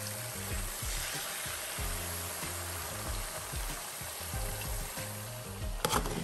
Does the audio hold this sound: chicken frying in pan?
yes